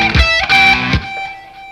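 Electric guitar with distortion releasing a string bend, then a quick run of notes up high on the neck, close and fairly loud with sustained ringing tones.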